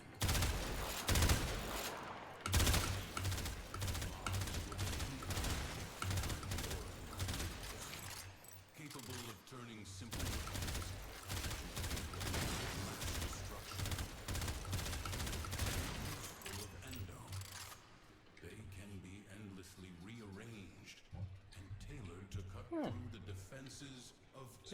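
Rapid bursts of weapon fire pelt training targets in the shooter game Warframe, dense volleys of sharp shots that stop and start, with a louder stretch early on and quieter, sparser firing toward the end.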